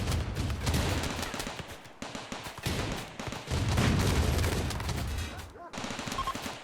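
Automated turrets in a RimWorld desert colony fire at raiders in sustained, dense bursts of gunfire, loud and nearly continuous with brief pauses around two and five and a half seconds, under faint talk.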